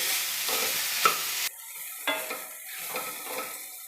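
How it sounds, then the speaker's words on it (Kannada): Masala with ivy gourd stirred and fried in a pan over a low flame, soft sizzling under repeated scraping strokes of a spatula against the pan, close and continuous with no talk. "ಸಣ್ಣದಾಗಿ ಉರಿ ಇಟ್ಕೊಂಡು ಚೆನ್ನಾಗಿ ಮಿಕ್ಸ್ ಮಾಡಿ ಒಂದು ಎರಡು ನಿಮಿಷ ಇದೇ ಥರ ಫ್ರೈ ಮಾಡಬೇಕು"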